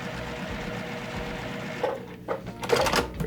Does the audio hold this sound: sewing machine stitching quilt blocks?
yes